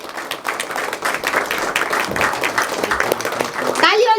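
An audience at a book launch ceremony in Kathmandu breaks into sustained applause, dense clapping that swells and holds, with a voice speaking over it.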